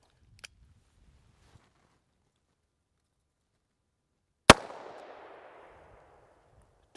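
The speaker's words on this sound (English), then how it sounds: "I'm gonna fire 3 rounds to see how much velocity you actually lose with this revolver" A single sharp report from a Ruger Super Redhawk revolver chambered in 22 Hornet rings out, loud and close, with a fading tail afterward, framed by a few faint clicks and otherwise quiet.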